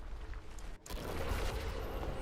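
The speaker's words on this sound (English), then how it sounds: "Those explosions are rough." Explosions in the video game Diablo 4, a dense burst of booming, crackling blasts that drops out briefly and then resumes as a continuous loud barrage, with no voices.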